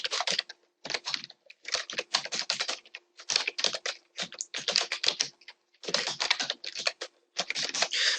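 Keys clatter on a computer keyboard in steady bursts of rapid typing with short pauses, a domain name being entered into a web browser; close and clear with no voices.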